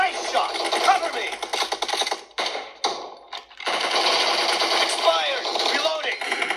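Automatic gunfire in PUBG Mobile, a mobile battle royale game, rattling in rapid bursts with short pauses, loud and close, with players talking over it.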